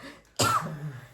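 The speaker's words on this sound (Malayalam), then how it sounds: "സംസാരിച്ച് വരുമ്പോ എനിക്ക് ചുമയും വരുന്നുണ്ടിട്ടാ" A single sharp, close cough from a woman breaks a short quiet moment and trails off into a throaty rasp.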